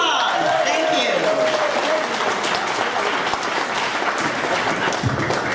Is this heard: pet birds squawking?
no